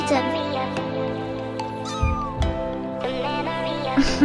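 A tiny rescued kitten gives a series of high, wavering meows, loud and close, with a person's voice speaking in between the cries.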